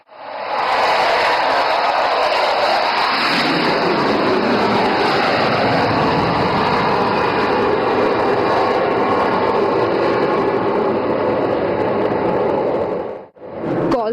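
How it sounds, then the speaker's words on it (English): Fighter jets from an Indian Air Force air show display make a low overshoot, a loud, sustained roar of jet engines close by that holds steady for several seconds before cutting off sharply near the end. "And now Abhimanyu 2 and 3 will carry out a low overshoot over the ELF and number 1 will land."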